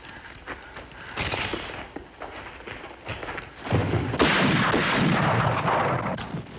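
Rifle shots in an old Western drama ring out as a series of loud, sharp cracks with booming echoes, spaced irregularly and building toward a dense, rumbling stretch near the end.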